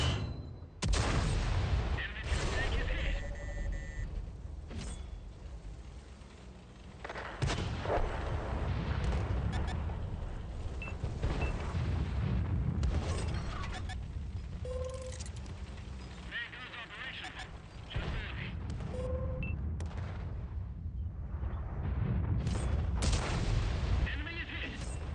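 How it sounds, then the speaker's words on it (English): Artillery fire pounds in a video game, heavy rumbling blasts and explosions rolling almost continuously, loud and dense, with a few sharper gunshot cracks and brief tonal game sounds mixed in. "Freaking artillery, dude."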